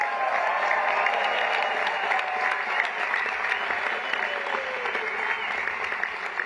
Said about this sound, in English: Can we have a round of applause for First Lady Melania Trump?